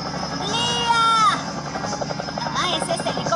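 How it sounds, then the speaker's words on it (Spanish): A cartoon helicopter flying overhead in an animated jungle scene, a loud continuous rotor and engine drone with warbling, sweeping tones layered on top, heard alone without speech. "¡Ah, ese es el helicóptero de nuevo!"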